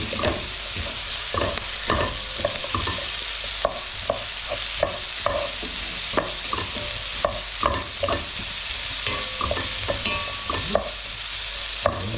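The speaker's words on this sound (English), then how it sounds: "now we're going to put in the ginger and garlic. Give that a good mix around." Ginger and garlic fry with onions in a pan, a steady close sizzle broken by repeated sharp scrapes and clicks of a utensil stirring and knocking against the pan, with no talking.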